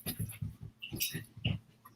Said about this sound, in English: Sorry, my dogs, everyone.